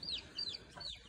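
Aseel chickens and chicks nearby: several high, falling peeps from chicks over soft low clucking, close and fairly quiet.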